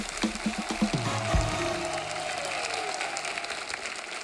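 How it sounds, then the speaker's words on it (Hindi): Studio audience on a comedy show applauding, a broad crowd clapping wash running under some brief low sounds near the start, steady and moderately loud throughout. "जोरदार तालियां हो जाए हमारी लड़कियों के लिए।"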